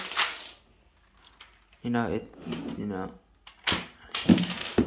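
A Lego MK47 Mutant toy gun's firing mechanism snaps with sharp plastic clicks at the start and again near the end, and someone speaks briefly in between.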